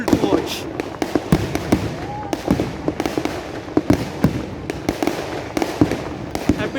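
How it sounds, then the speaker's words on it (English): Firecrackers at a New Year celebration on Miramar Beach in Goa crackle and pop all around, with irregular sharp bangs near and far over a steady background of crowd voices. "Everywhere there is a firecrackers, and this is so cool to watch."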